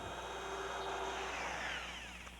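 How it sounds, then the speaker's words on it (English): A hole drill bores through birdhouse wood with a steady, loud whine and grinding that runs unbroken, tapering slightly as the cut finishes. "what I'm using is a hole drill"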